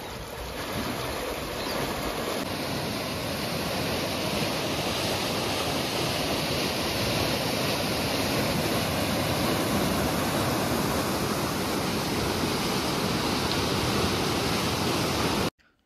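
Water released through the gates of Mylavaram reservoir dam roars in a loud, unbroken rush, a dense steady torrent heard up close for the whole stretch with no voices over it, cutting off abruptly at the end.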